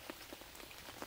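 Gentle summer rain falls with no wind in Aghadowey, a quiet steady patter of drops on a surface with a few soft taps standing out, faint and continuous with no voices.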